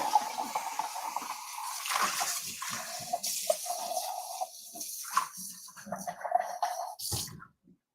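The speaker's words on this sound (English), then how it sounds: "So just gonna rinse this out real quick." Part of a juicer is rinsed under running water, making a close, uneven splashing and gurgling flow that shifts in pitch as the stream hits the part, then stops abruptly near the end, with no talking.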